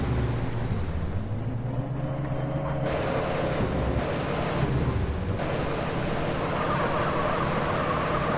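A car engine in GTA San Andreas drones and revs continuously, with pitch rising and falling as the vehicle speeds up and changes gear, steady and fairly loud.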